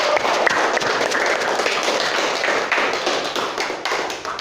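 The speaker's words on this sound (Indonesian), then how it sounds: "Tepuk tangan dulu untuk kita semua." A classroom of students claps together in a dense, continuous burst of applause lasting several seconds, close and fairly loud with no talk.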